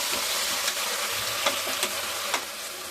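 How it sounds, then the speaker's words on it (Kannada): Onions and turmeric sizzling in hot oil in a home kitchen pan, a steady bright frying hiss broken by several sharp scraping stirs, close and alone without talk. "ಎಣ್ಣೆ ಕಾದಿದೆ. ಸ್ವಲ್ಪ ಈರುಳ್ಳಿ ಹಾಕ್ತಾಯಿದ್ದೀನಿ."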